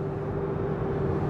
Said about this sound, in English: So let me downshift. A little bit of supercharger whine